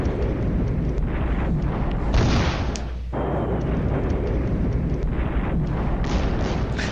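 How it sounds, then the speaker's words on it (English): Tank cannon fire and explosions in a war video game, heavy booming blasts and rumbling impacts repeating over a constant battlefield roar. "We fire and kill another tank!"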